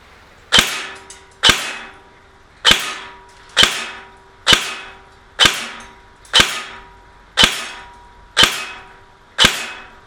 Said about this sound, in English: Let's pop 10 rounds in here.